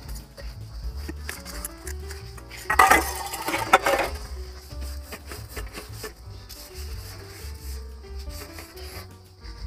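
Dishes and utensils being scrubbed and washed in a rustic Awadhi comedy sketch, with steady rubbing and clinking metal and a loud burst of clattering partway through.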